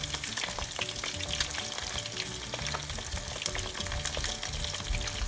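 A tilapia fillet fries in a pan with a steady, close sizzle full of crackles and small pops, with no voices.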